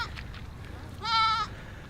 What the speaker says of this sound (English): Check out this little goat here.